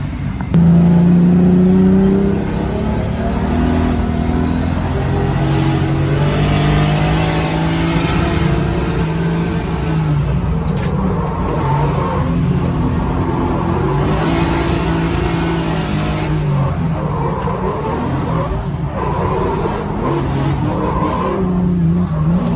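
A drift car driving hard at a drift event: a loud, close engine revs and roars continuously, rising and falling, with bursts of tire squeal and skidding, and no voices.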